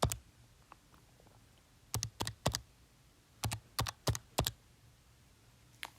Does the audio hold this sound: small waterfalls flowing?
no